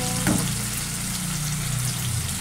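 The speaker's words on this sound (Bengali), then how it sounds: "ভাজা ভাজা হচ্ছে" Food frying in a pan makes a steady, close sizzle with a brief clatter near the start, continuing evenly without voices.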